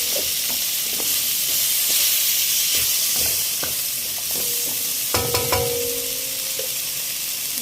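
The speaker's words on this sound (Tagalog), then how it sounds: "Pasangkutsa na natin yung ating pork. Then, nilagyan na natin ng bagoong isda." Pork sautéing with fish bagoong in a pan for pinakbet gives a steady, close sizzle broken by stirring scrapes and utensil knocks, with a sharper clatter and brief ringing tone near the end.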